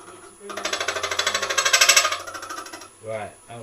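Woodturning hollowing tool cutting into wood with heavy-handed pressure, a loud rapid chattering rattle that pulses in a steady rhythm for about two seconds before easing off, followed by a brief voice.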